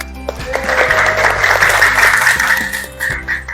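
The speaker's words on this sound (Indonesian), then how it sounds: "tepuk tangan untuk kita semua" Applause from participants at an online training session, a short run of clapping over a steady low hum, with the crackly sound of a call or recording.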